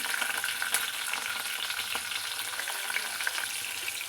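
Mustard seeds and chillies frying in a little hot oil for curry, a steady, close, dense crackling sizzle with small pops throughout and no talk.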